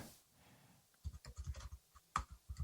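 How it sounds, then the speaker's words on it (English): Typing on a computer keyboard, a rapid run of close, quiet clacking keystrokes in uneven bursts after a brief near-silent pause, with no speech. "You're typing and I'm typing"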